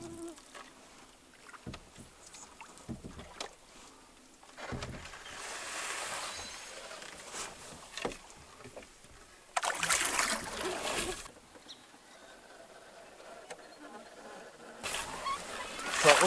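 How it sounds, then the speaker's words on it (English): A canoe pushed through dense bog plants in a wilderness lake, with scraping, brushing rustles and splashy bursts coming in irregular spells close by, over a quiet outdoor background with insect buzz. "I'm doing very little paddling. I'm mostly just pushing off the plants in this bog."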